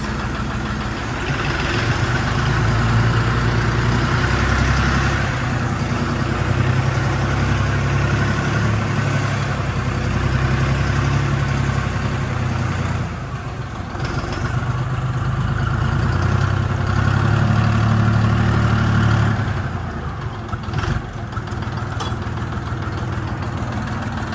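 A Dongfeng 244 G2 mini tractor's diesel engine runs steadily with reverse engaged, a loud, close, knocking idle that holds throughout, dipping briefly midway before picking back up.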